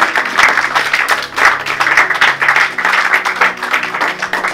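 A church congregation applauds and acclaims God during a prayer service, steady close clapping with a dense crowd roar running throughout, rising and falling slightly in waves.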